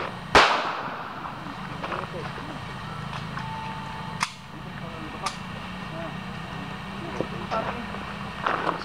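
A gunshot fires a bullet into glass as one sharp, loud crack near the start, followed by a few fainter clicks and taps while people talk in the background.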